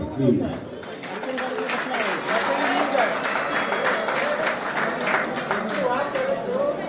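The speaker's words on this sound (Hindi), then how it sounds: "जोर से तालियां बजनी चाहिए" Audience at a dance and music salute performance for the Border Security Force clapping for a dancer, a broad wash of applause with cheers and crowd chatter mixed in, a voice briefly heard over it.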